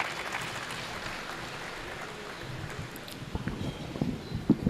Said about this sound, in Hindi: आप भरपूर तालियों से उसका स्वागत करें।